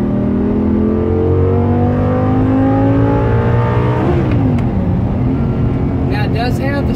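A tuned 2011 Audi R8 with a 5.2L V10 and a STaSIS tune climbs in fourth gear with a rising engine note, then blips sharply on a downshift to third and pulls hard again, loud and close from inside the cabin.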